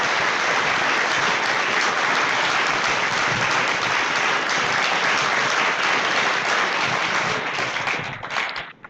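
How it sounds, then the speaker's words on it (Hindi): A large crowd at a religious gathering in Surat claps together in dense, sustained applause that stays loud and even for several seconds before tapering off at the end. "एक बार ताली बजाओ।"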